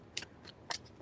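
Tarot cards are shuffled in two quick, soft riffling bursts, close and quiet with a near-silent pause between them.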